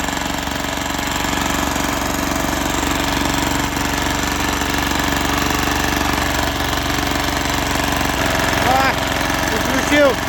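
Zubr NT135E walk-behind tractor working a rotary harrow in a garden bed, its engine running with a loud, steady rattling drone throughout and a brief rise in revs near the end.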